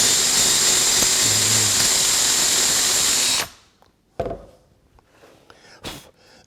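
A power drill clearing out a mortise in a wooden table leg for a Greene & Greene style rafter tail table whines loudly and steadily for a few seconds, then stops, followed by scattered knocks and handling sounds.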